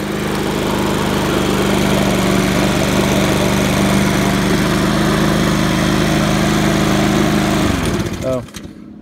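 A Troy-Bilt TB110 rear-wheel-drive lawn mower engine runs loud and steady at close range with a constant buzzing drone, then abruptly cuts off near the end, leaving a short sputter and silence.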